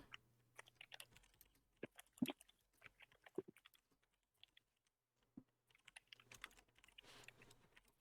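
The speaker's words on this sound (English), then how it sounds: "Now we're both typing notes here." Typing on a computer keyboard while taking notes, with quick irregular bursts of key clicks and brief pauses, close and fairly quiet.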